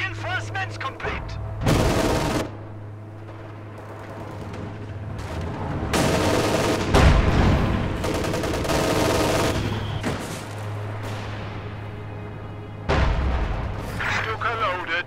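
Artillery booms and gunfire crackle in a World War II multiplayer battle game on the La Gleize map, with loud bursts recurring amid a steady hum and in-game voices shouting over the fighting.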